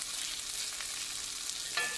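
Homemade hash browns fry in a pan with a steady, bright sizzle and crackle throughout, close and fairly loud, with a faint clink near the end and no talking.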